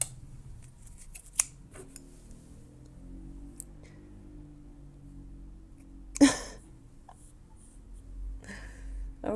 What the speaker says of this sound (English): I use office scissors.